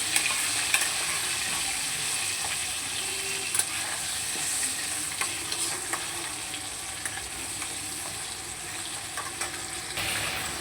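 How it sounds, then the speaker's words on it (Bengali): Potato pieces dusted with turmeric and chili powder fry in a pan, a steady broadband sizzle with small pops and occasional stirring scrapes running throughout, fairly close and even in level. "এবার আলুগুলোকে সুন্দর করে লাল লাল করে একটু ভেজে নেব।"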